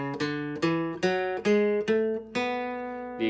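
A guitar picks seven notes of a major-scale mode starting on B, one at a time, each struck clearly and left to ring into the next at an even, unhurried pace.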